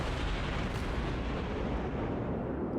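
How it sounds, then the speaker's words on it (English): Naval gunfire in World of Warships as the tier 3 cruiser St. Louis shoots at a destroyer behind an island, a dense, continuous low rumble of booming shots under sustained loud battle noise, with no speech. "We take some shots at the destroyer behind that island"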